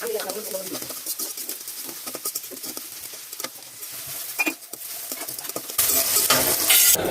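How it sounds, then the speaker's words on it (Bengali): Sliced onions fry in hot oil for beresta, a steady crackling sizzle with occasional stirring scrapes, growing louder and brighter toward the end. "এখন আমি এই তেলেই অল্প একটু বেরেস্তা তৈরি করে নেব।"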